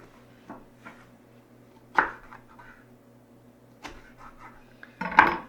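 A knife cuts pepper strips into bite-sized pieces on a board. A few sharp, widely spaced chops land close by over a quiet background, and the last one is the loudest. No one speaks.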